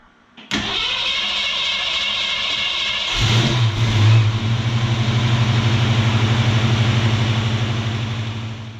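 A car engine fitted with a Holley 4160 carburetor and a new black spacer fires up, then settles into a loud, steady run with a low, rumbling idle, heard up close.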